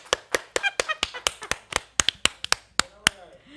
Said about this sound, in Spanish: vamos a darle un aplauso a eso